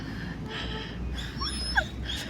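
A dog whines in a few short, high, wavering cries over quiet background hiss, the whimpers rising and falling near the end.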